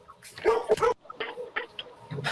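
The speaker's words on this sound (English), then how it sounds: "Somebody's got a dog." A dog barks and yips several times in short bursts, close and fairly loud, with whimpering notes between, heard during a township council meeting.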